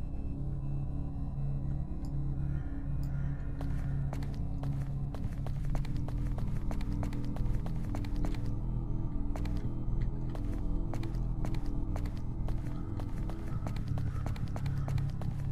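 Regular footsteps echo through a video game maze, a steady run of sharp taps repeating over a constant low hum and droning background, growing denser in the second half.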